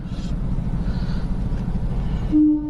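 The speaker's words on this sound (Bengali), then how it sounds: "এই যে ট্রেন আসছে" A train approaches and rumbles steadily nearby on the Kolkata–Tarakeswar route, and a short horn-like tone sounds near the end.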